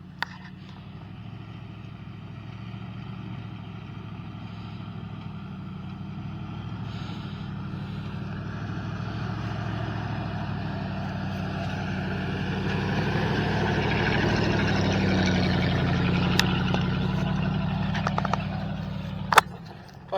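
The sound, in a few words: truck engine driving off-road in 2-wheel drive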